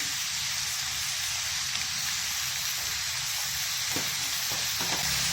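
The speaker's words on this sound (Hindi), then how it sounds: "हरी मिर्च डाल देनी है इसमें, 2 हरी मिर्चें हैं।" Green chillies added to a sizzling pumpkin mixture in a pan, a loud steady frying hiss throughout with light stirring clatter near the end, close and without talk.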